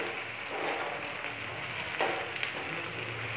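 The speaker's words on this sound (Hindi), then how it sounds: "ये भीगा हुआ बेसन के दाने डाल देंगे। गैस की फ्लेम लो कर देंगे और इसे तेल में फ्राई कर लेंगे।" Soaked besan (gram flour) drops frying in hot oil on a low gas flame, a soft, steady crackling sizzle with a few sharper pops, fairly faint and continuous.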